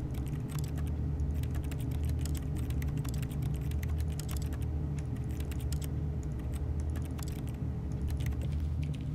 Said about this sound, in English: have to type some